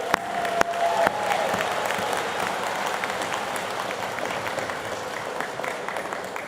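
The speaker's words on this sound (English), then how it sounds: "Can we give them a round of applause?" A commencement convocation audience claps steadily for first responders in a large hall, loud sustained applause with a few sharp early claps and no one speaking over it.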